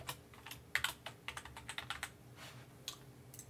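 A folder name is typed on a computer keyboard in a quick run of close, crisp key clicks with uneven spacing, alone in a quiet room.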